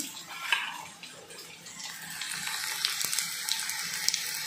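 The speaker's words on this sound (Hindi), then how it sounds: "मिर्ची अच्छे से फ्राई हो जाती है" Green chillies frying in a pan for poha in a home kitchen, giving a close, steady sizzling hiss that grows busier with sharp crackles and pops in the second half.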